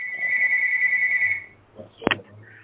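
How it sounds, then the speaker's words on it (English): A telephone rings in the background during an online meeting about athletics and sexual assault prevention, one sustained electronic ring that stops, then a sharp click and faint room sounds. "someone's obviously got a phone going in the background"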